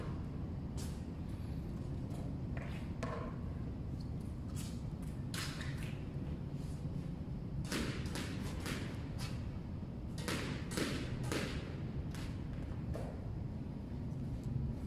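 Squash ball volley forehand drives in a fitness and skills drill, a string of sharp repeated thwacks at an uneven pace over a steady broadband background hum, some clusters coming in quick succession.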